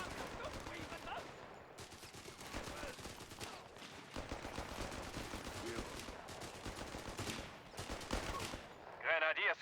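Gunfire in the Company of Heroes 3 strategy game, a continuous stream of rapid machine-gun bursts and rifle shots layered over one another, loud and busy throughout, with a short voice line near the end.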